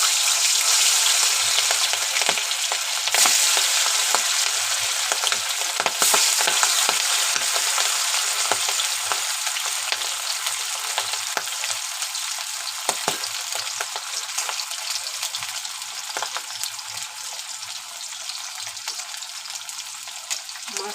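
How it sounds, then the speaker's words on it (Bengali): Hilsa fish pieces frying in hot oil in a kadai, a dense, steady crackling sizzle that carries on for a long stretch, with occasional faint clicks and no speech. "এখন আমি মাছটা ভেজে নেব।"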